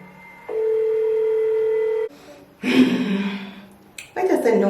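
An outgoing phone video call rings as a steady electronic tone for about a second and a half, then breaks off into breathy noises and rustling close to the phone.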